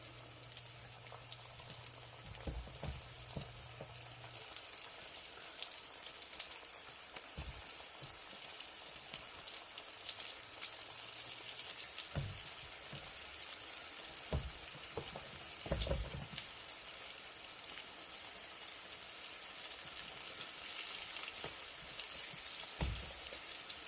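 Precooked chicken gizzards fry in a pan to crisp the outside, a continuous loud sizzle with scattered pops and occasional clanks of utensils, no talking.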